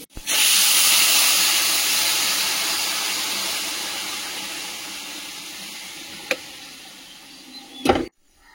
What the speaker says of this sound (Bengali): ইলেকট্রিক কেটলিতে জল গরম হচ্ছে